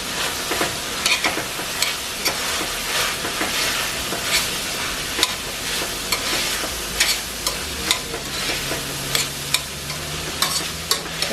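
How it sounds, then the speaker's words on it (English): Cilantro is stirred into a cooking plantain empanada filling, with a steady sizzle of frying under frequent close scraping and stirring strokes of a spoon against the pan. "I'm going to add my cilantro. And we're just going to give this a good mix"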